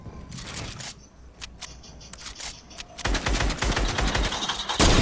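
Rapid bursts of automatic gunfire crack through a squad shooter video game, scattered single shots giving way to a sustained, loud volley in the closing seconds, with no talking.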